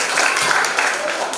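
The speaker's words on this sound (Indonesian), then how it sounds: "Kita tepuk tangan dulu sebelum kita." Audience at a school event at SMPK St. Fransiskus Xaverius claps together in a steady, dense patter for a brief moment, with no talk over it.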